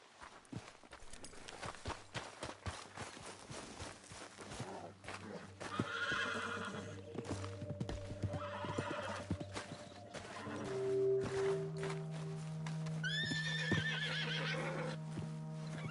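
A horse in the video game Red Dead Redemption 2 whinnies and neighs repeatedly while hooves clip-clop nearby, the calls rising in loudness over a steady low hum toward the end.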